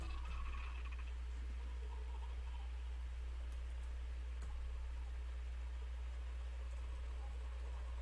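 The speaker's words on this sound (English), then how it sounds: "Go away, you satanic freaking turkeys." Turkeys in the South Park video game gobble in a warbling burst near the start, then fade under a steady background hum with occasional faint ticks.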